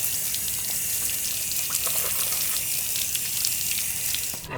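Water sprays steadily over a small block Chevrolet engine block during rinsing, a constant close hiss and splash with no voices.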